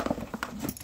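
Horse hooves clop in a short burst of uneven, fairly faint steps while the animal is loaded into a trailer.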